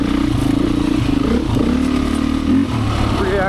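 Beta 500 dirt bike on a forest trail loop in Michigan, its engine droning steadily up close with rising revs, wind buffeting and rattling clatter over the ride.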